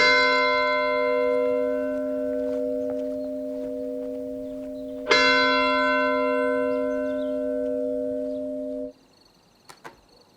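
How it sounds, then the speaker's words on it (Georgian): A large church bell tolls twice, each strike loud and close with a long ringing hum that sustains for several seconds before being cut off, followed by a couple of faint knocks. "ძალიან დიდხანს არ გირეკია ზარი."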